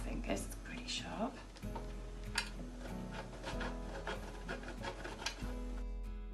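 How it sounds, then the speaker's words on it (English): A sharp grater scrapes cheese in repeated rasping strokes, close and fairly quiet, with a voice speaking over the grating. "Grated all the cheese"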